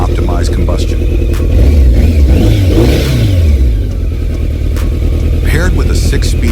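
A BMW K 1200 RS Touring motorcycle, with a DOHC four-valve-per-cylinder engine, six-speed gearbox and shaft drive, revs up and down, its engine note rising and falling close by while a voice talks over it.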